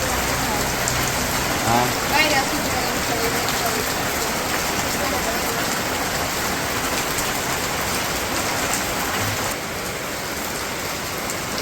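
Heavy rain pours steadily in a village setting, a dense continuous hiss of drops on surfaces, near and even, with a brief voice breaking in once.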